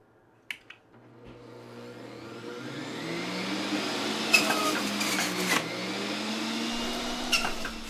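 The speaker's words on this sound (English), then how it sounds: "the Breville just will take large amounts of vegetables or fruits. It will grind them up, no problem at all" A Breville juicer grinding vegetables and fruit: the motor whirs up from quiet into a steady mid-pitched drone, with crunching knocks as pieces are fed in, moderately loud and close.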